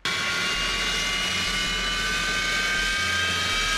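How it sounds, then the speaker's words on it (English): Cooling fans of an overheating MacBook spinning at full throttle, a steady, loud whooshing roar with a high whine that holds throughout, with no voices. "causing overheating and for your fans to run at full throttle"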